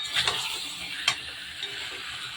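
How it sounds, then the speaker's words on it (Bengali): Chicken kosha cooking in a pan with potatoes just added, giving a steady broadband sizzle with a few sharp clinks of a utensil against the pan, close and alone. "দেখুন আমি আলুটা অ্যাড করে দিলাম"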